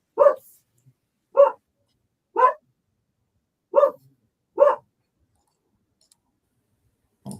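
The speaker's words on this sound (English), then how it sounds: "I'm waiting for the dog to finish." A dog barks somewhere nearby, five short sharp barks spaced roughly a second apart, followed by the start of another after a pause, clear against otherwise silent surroundings.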